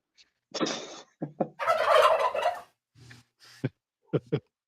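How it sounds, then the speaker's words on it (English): Several bursts of turkey gobbling, a long loud rattling gobble in the middle with shorter calls before and after, fairly close. "You're gonna hear turkeys every episode till Thanksgiving"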